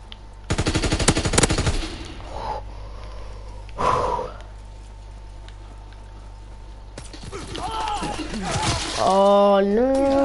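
An MG50 machine gun fires in the Call of Duty WWII video game, a loud rapid burst lasting over a second, followed by scattered shots and game noise, with a player's voice heard later.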